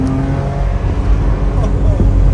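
A BMW E30 convertible engine rumbles and revs steadily at close range, with a voice talking over the motor noise.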